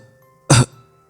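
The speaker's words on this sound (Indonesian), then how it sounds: "Suara batuk orang tua itu semakin keras saja." An old man gives a single short, harsh cough indoors, heard close and alone against a faint background hum.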